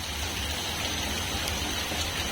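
Heavy rain pours steadily over a village, a dense, continuous hiss of drops with a low rumble beneath, close and unbroken throughout.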